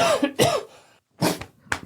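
A close, loud burst of several rough coughs with throat clearing, a brief silent pause, then two more coughs.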